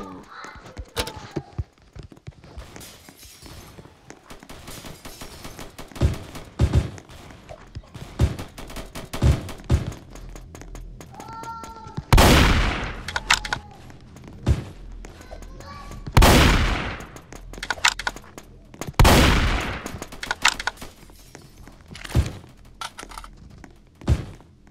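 Gunfire in the Roblox game Strucid, scattered sharp game shots and a few heavy blasts over a few seconds, interrupted by a player's voice.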